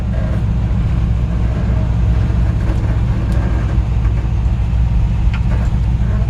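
A 1957 Chevy 3100 pickup engine runs steadily, its old-truck exhaust giving a loud, deep, throbbing rumble that stays constant and close without any talk.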